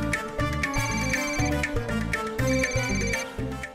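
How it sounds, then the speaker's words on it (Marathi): A mobile phone's ringtone plays steadily throughout, a looping melodic electronic tune at moderate volume with no talk over it. "तुझ्या आईचा भ्रमणध्वनी आहे. घे ना."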